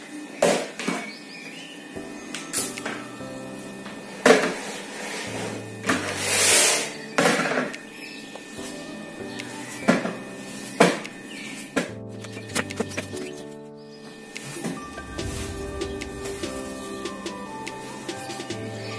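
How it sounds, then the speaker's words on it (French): A knife slices a cooked plantain into oval pieces in a home kitchen while Cameroonian DG chicken is prepared, giving a series of close, uneven cutting knocks and thuds against a board with small clatters between. "Le plantain est terminé, je vais donc découper."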